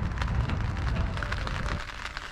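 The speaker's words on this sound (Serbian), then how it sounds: "Kiša, blagi vetar," Rain falling steadily outdoors during a zander jigging session on a pontoon in light wind, a dense continuous patter with soft low rumble, close and even throughout with no voices.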